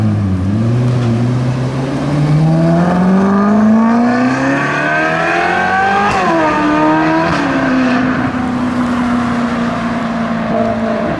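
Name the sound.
Ferrari 4.3 litre naturally aspirated V8 engine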